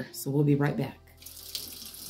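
Tap water gushes into a sink to refresh the washing water for cleaning vintage Care Bears plush toys, a steady close rush following a brief spoken line at the start.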